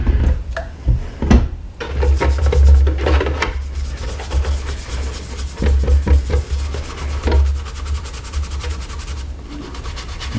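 An animal skull is scrubbed with Arm & Hammer baking soda, a steady, close rasping rub of bristles against bone that comes in repeated strokes with short pauses.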